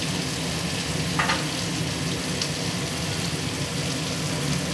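Prawn khichdi sizzles steadily in a pan while being stirred, a constant close frying hiss with faint scraping from the stirring.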